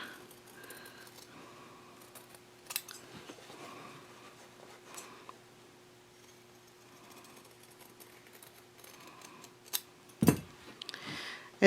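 Scissors snip fabric around a sewn curve while making a shopping bag: sparse, quiet cuts scattered across a calm stretch, with a louder burst of snipping near the end.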